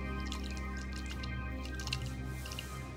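Water dripping from a freshly broken coconut, a few soft drips and small splashes close by, steady and quiet with no talking.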